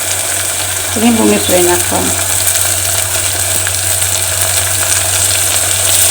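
Okra fries in oil with a dense, steady hiss as it is stirred, and a voice briefly hums or speaks over the sizzle early on.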